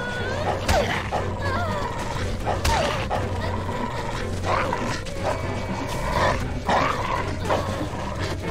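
A dog in The Walking Dead video game barks in several sharp bursts spread across the scene, set against a busy game soundscape with other background noise.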